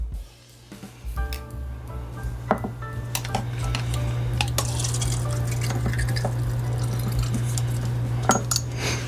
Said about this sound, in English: So I'm just going to pour it in this shot glass, right?